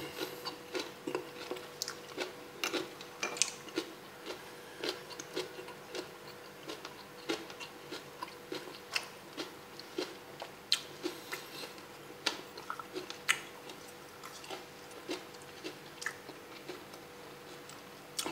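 Someone chews cooked village food close to the mic, crisp and chewy, a quiet run of irregular crunching bites and soft wet chewing with small pauses, no talk.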